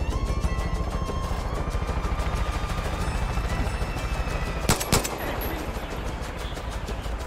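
Rapid, steady gunfire in Far Cry 5, a long run of regular close shots with a couple of sharper, louder cracks near the middle.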